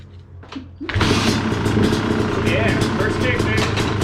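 A 2019 Yamaha YZ250X two-stroke dirt bike fitted with a SmartCarb carburetor kick-starts and catches at once, then idles loud and close with a steady crackling buzz.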